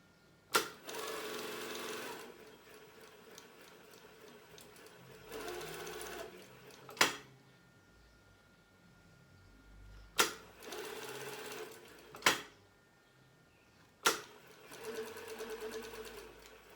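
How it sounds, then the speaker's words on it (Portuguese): A sewing machine stitches pillowcase fabric in short bursts of fast whirring, separated by pauses and sharp clicks from backstitching and lever handling. "Aqui eu já posicionei o tecido na máquina, tá? E nós vamos dar o retrocesso"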